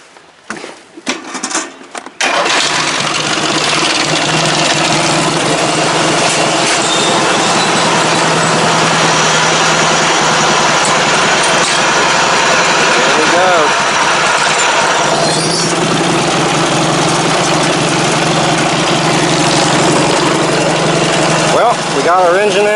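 A small engine on an MTD Bolens 38-inch riding mower runs steadily and loudly, a continuous mechanical drone that starts after a brief burst of clatter and holds close to the listener throughout.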